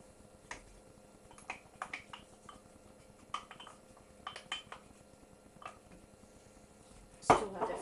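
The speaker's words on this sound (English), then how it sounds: "Give that a good old mix." A crumble's vegetable filling with Worcestershire sauce and fresh parsley being mixed in a dish, scattered light clinks and scrapes of a utensil against the dish in an irregular rhythm, quiet and close, ending with a louder clatter.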